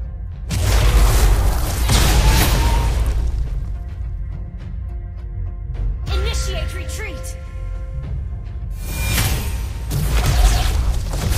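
A turret being destroyed in a Mobile Legends-style match with the hero Rafaela: loud, heavy booming blasts at the start and end, with a quieter stretch between, all mixed with in-game voice lines.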